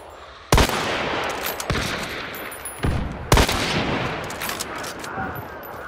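A shotgun fires in Hunt: Showdown, with four loud, sharp blasts spaced a second or more apart, each trailing into a long reverberant tail over steady outdoor ambience.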